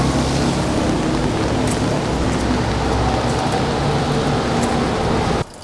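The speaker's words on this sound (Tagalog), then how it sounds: "Hassle pag umuulan." Steady broadband rain pouring down for several seconds, an even wash of drops on surfaces with a few faint traffic hints underneath, cutting off abruptly just before the end.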